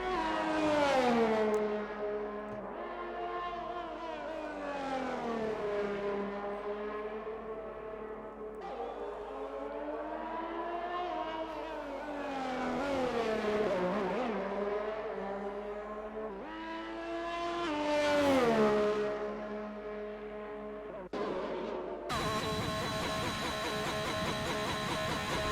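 Race car engines in a racing video game during a Belgium round, with high revving engine whines rising and falling through gear changes, loud and continuous, ending in a brief burst of harsher noise.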